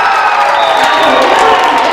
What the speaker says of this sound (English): a huge ovation from the crowd